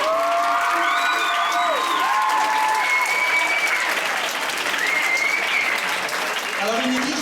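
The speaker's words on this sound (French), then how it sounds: "On peut l'applaudir." A crowd at a charity head-shaving challenge claps loudly and steadily for a participant, with cheers and whoops rising over the applause and voices calling out throughout.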